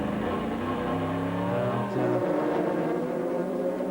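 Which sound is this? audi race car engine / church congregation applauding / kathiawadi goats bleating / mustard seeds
audi race car engine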